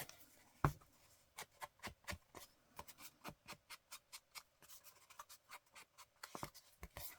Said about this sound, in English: Let's flatten that cut edge.